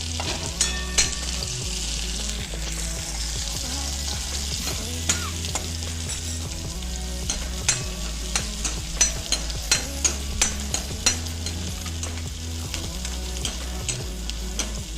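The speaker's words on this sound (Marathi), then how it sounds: "आता छान कांदा छान आपल्याला परतून घ्यायचा आहे." Onions sautéing in a pan while Maggi noodles are being made, a steady broadband sizzle with a low hum underneath and scattered clicks and scrapes of stirring throughout, close and alone without speech.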